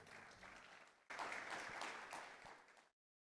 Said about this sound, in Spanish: Vamos a recibirle a nuestra hermana con un aplauso.